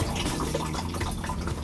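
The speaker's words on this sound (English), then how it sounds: "and it will flush the toilet" Flushing of a toilet in a McLouis MC4-22 motorhome, a brief close rush of running water filling the bowl with no talking.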